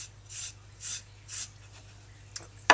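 A rag wiping varnish onto a wooden bedside table with very light pressure, three soft, even rubbing strokes spaced about half a second apart, followed by a couple of faint scuffs and a sharp click at the end.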